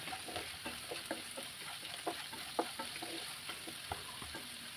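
Vegetables frying with salt in a pan, a soft continuous sizzle with repeated light scrapes and taps of a spoon stirring at an even pace, fairly quiet and close.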